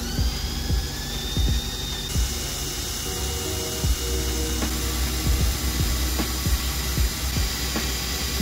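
A steady high-pitched drill whine runs throughout, with repeated grinding bites and clicks as the bit bores into a broken metal bolt, close and loud.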